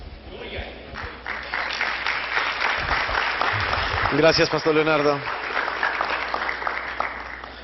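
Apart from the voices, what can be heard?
applause for the two participating pastors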